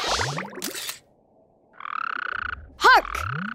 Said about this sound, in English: Hark! Another frog!